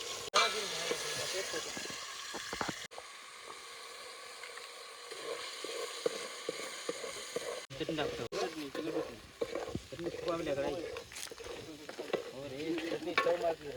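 A spice paste frying in hot oil while fish is cooked outdoors, giving a crackling sizzle and stirring scrapes, broken by sharp knocks, with voices talking over parts of it.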